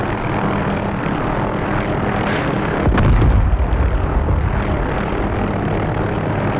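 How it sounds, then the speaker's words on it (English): Gunfire aimed at the player's aircraft in the DCS World Vietnam mission, a brief burst of sharp cracks and impacts over the steady drone of the aircraft engine and rotor noise, loudest for about a second midway. "someone's shooting at me again"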